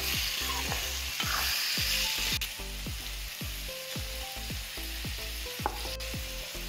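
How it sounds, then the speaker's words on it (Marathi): Tomato puree sautés in a pan for bhogi bhaji, giving a quiet, steady sizzle with faint stirring scrapes and occasional soft knocks, with no voices. "आता टोमॅटो प्युरी मी जी केली होती ती पुन्हा याला थोडंसं परतून घ्यायचं"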